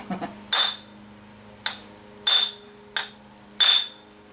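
Several sharp metallic hammer strikes on a Nissan Hardbody D21 wheel hub ring out at an uneven pace, each with a bright clang and a brief decay, close by with no talking.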